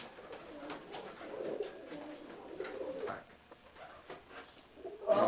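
Racing pigeons coo softly in a loft, several low, throaty coos in the mid-range coming close and fairly quiet, with faint rustling between them.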